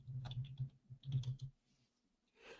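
Typing on a computer keyboard comes through as two quick bursts of close, soft key clicks separated by a short pause, then a faint rustle, with no voices.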